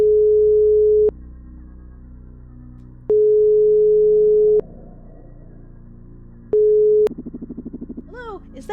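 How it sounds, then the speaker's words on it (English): A telephone calling tone sounds in three long steady beeps with pauses between, followed by a buzzy pulsing signal and brief voice sounds at the end. "Calling Mom"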